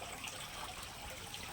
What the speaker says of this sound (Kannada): ಈಗ ನೋಡಿ ನೀರು ಹೆಂಗೆ ಸುರಿತಿದೆ